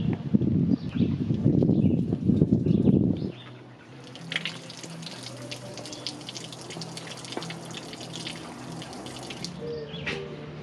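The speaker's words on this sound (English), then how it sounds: "you want to look down at the bottom of the car and make sure that water pours out" Water splashes heavily from a Mazda MX-5 Miata's body drain at first, then gives way to a quieter steady trickle and drip against a low background hum.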